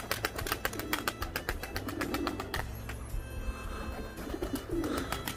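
Arab roller pigeons kept as performing birds, cooing steadily in a loft with soft repeated calls close by, over a low background hum.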